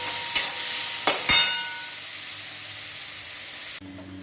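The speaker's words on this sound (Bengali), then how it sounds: "আলু ভাজা করছি।" Potatoes sizzle steadily in hot oil in a pan with a little turmeric, with a few sharp scrapes of stirring early on, then a continuous close frying hiss that drops to a quieter sizzle near the end.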